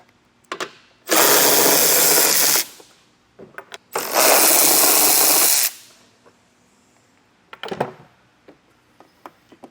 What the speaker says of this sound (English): we're just going to take our 13mm socket and our power ratchet and back all of those out